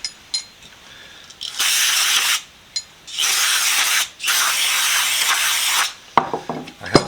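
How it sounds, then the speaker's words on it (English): Brake parts cleaner hisses from an aerosol can onto a vintage Columbian 143 vise in three long, loud sprays separated by brief pauses, followed by clattering handling noises. "I do want to spray it down with some brake parts cleaner."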